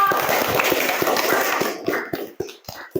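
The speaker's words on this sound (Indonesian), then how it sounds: "Tepuk tangan buat kelompok." A group in a classroom or training session claps for a presenting team, a brief burst of mixed hand claps that thins into scattered, irregular claps and taps.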